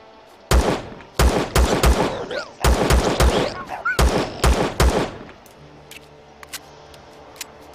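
Gunfire in the video game Empyrion Galactic Survival: three loud, close bursts of rapid shots, each a quick string of sharp cracks separated by short pauses, followed by sparse faint clicks and a quiet background hum.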